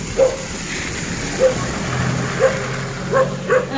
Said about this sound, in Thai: หมาเห่านะ